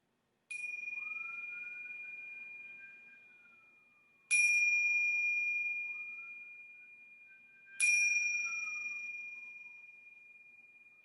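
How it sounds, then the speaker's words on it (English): A meditation bell is struck three times to close a meditation, each ring clear and sustained, decaying slowly into silence between strikes, alone with no talk. "So I'll ring a bell simply to end the meditation."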